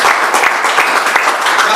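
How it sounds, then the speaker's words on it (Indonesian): A church congregation at a Sunday worship service claps loudly and steadily for Jesus Christ, a close, dense burst of hand clapping filling the whole short stretch. "Tepuk tangan untuk Tuhan Yesus Kristus."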